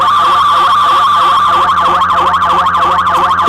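Resonating VCF on a MonoPoly synthesizer, a loud sustained tone with a sharp whistling resonance that sweeps up and down in a fast, wavering, siren-like pattern.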